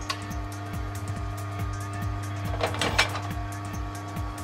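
A TW X-11 tyre changer turns with a steady motor hum and a quick, regular ticking that repeats several times a second, close and mechanical throughout.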